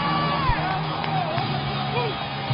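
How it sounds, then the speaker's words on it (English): A crowd roars at the 2017 NJSIAA high school football championship between Westfield and Bridgewater-Raritan at MetLife Stadium, a steady, dense wash of cheering under a commentator's talk. "the crowd is fired up here at MetLife Stadium"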